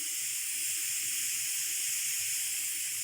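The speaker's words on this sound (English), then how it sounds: "you can just about hear the steam" Steady, even hiss of steam escaping from a pressure cooker, constant and fairly quiet with no other sounds.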